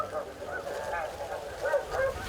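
Goose-like honking calls from an electronic goose caller repeat over a steady background during a goose hunt, with a few louder clusters of honks toward the end; a voice murmurs faintly beneath.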